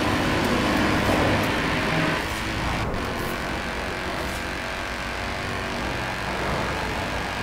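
A Jaguar F-Pace S drives through a highway tunnel with a loud, steady engine and road roar that fills the enclosed space, dipping slightly midway and then holding constant.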